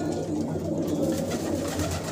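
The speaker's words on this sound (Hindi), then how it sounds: "265 कबूतर हैं ये माशाल्लाह" A large flock of Hyderabadi racing pigeons coos in a steady, overlapping low murmur, close and continuous, with no talking.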